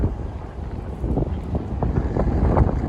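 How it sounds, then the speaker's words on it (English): Wind gusts steadily through downtown streets lined with buildings in Regina, a continuous low rushing roar buffeting the microphone, growing slightly stronger partway through, with no talking. "It's windy. It's always windy down here, if there's any wind at all."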